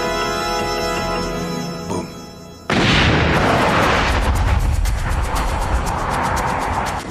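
An artillery shell explodes in a cannon: a sudden loud blast booms in after a steady hum, followed by a sustained roaring, crackling rumble that lingers for several seconds.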